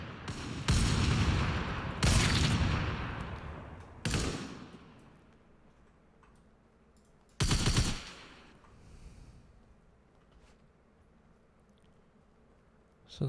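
Bursts of automatic gunfire from a third-person shooter game in closed beta, several loud volleys with gaps between them, the longest lasting over a second, fading into a quieter background.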